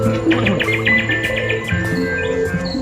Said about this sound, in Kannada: ಈ ಥರ ಬರ್ಡ್ ಸೌಂಡ್ಗಳು ಕೇಳಿಸುತ್ತೆ